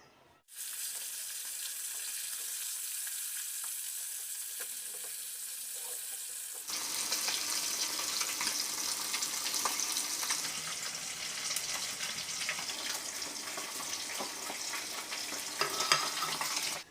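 Korameenu fish pieces fry in oil with a continuous, even sizzle. The sizzle grows louder and denser about midway, with no voices.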